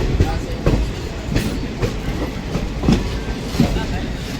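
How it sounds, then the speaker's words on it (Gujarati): A train on the Rajkot–Okha line rumbles past close by, wheels clacking in a regular rhythm over the rails, with some voices in the background. "એકદમ તે નજીક ટ્રેન છે."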